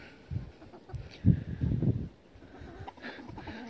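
Chickens and young roosters cluck softly in a backyard flock, low murmuring calls coming in uneven clusters at close range with some faint background noise.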